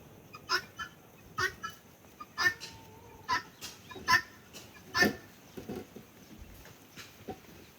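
Farm chickens cluck in scattered short bursts, a dozen or so soft, irregular calls at moderate distance in an otherwise quiet outdoor setting.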